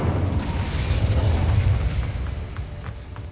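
A fire spell cast in the video game Hogwarts Legacy: a sustained, loud whooshing roar of flames with a deep rumbling body, steady for a few seconds before easing slightly, with no talk.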